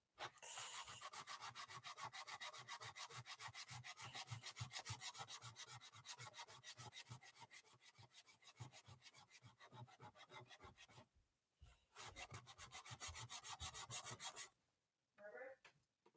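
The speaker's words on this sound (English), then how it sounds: "Sanding" Wide popsicle-stick wood being sanded by hand in quick rhythmic back-and-forth strokes, close and steady, with a brief pause before a final few harsher rubs and scrapes.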